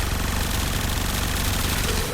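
Rapid sustained automatic fire from the Supra Vandal in Warframe, a dense continuous stream of shots running loud and unbroken for about two seconds with no talking.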